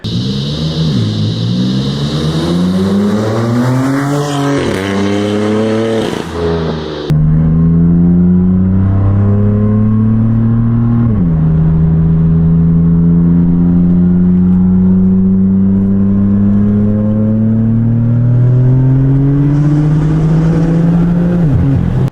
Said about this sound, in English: some sound clips of what everything sounds like paired together